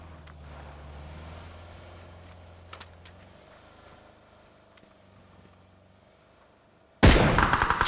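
A vehicle engine in the PUBG battle royale game on the Taego map, third-person duo mode, drones low and steady through the first seconds, followed by a sudden loud burst of gunfire near the end.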